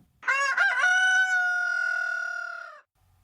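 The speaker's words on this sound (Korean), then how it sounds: "때마침 우는 닭의 소리" A single loud rooster crow, close by, rising and holding a long drawn-out note before cutting off, with silence around it.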